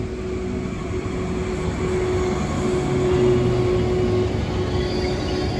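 A passenger train in Italy rolling steadily along the rails, a loud continuous rumble with a faint steady whine, heard from inside the carriage with no talk.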